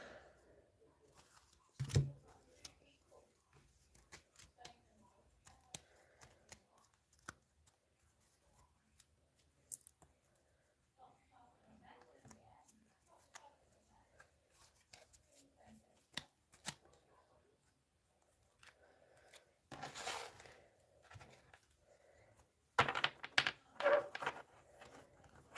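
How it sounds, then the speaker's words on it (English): Quiet, sparse rustling and tapping, then a few louder bursts of riffling from a large deck of tarot cards near the end, close and soft. "let's have a shuffle"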